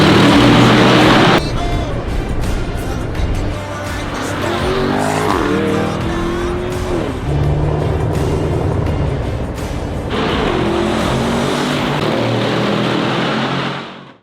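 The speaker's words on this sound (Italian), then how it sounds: "Adesso andiamo a fare 2 accelerate come si deve" A Lamborghini Urus revs and accelerates hard, loud engine roar rising through gears with a brief tire squeal, easing off midway then surging again before cutting out at the end.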